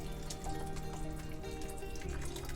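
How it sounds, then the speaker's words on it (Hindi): Two cups of water poured into a pot of washed guar beans while cooking, a steady close splashing pour that runs without a break and with no talk over it. "और ऐड कर देंगे 2 कप पानी।"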